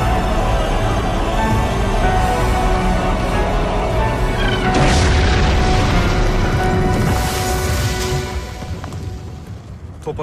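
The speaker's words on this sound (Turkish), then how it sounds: "Top atışı ağırlaştı." Heavy artillery cannon fire in a Gallipoli 1915 war film: a continuous loud rumbling barrage with a sharper crashing blast midway, fading toward the end.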